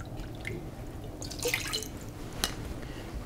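Vinegar is poured into a measuring cup for pickled red onions, a brief trickle with a few liquid drips and splashes, close and fairly quiet with no talking.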